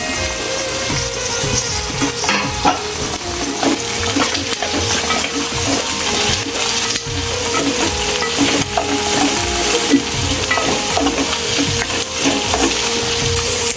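Potatoes and bottle gourd sizzle in a pan for a val bean curry, loud close frying with repeated scraping stirs of a spoon against the pan, no talking.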